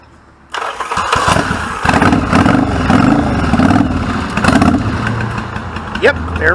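A 1986 Yamaha Virago motorcycle engine cranks and catches after a brief quiet moment, then settles into a loud, lumpy idle close by, with a short sharp noise near the end.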